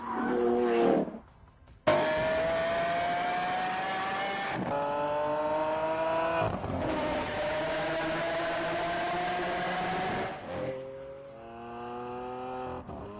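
Supercars racing along a road in a Grand Tour driving video game, engines roaring loudly and continuously, revving up through gear changes with brief tire squeals.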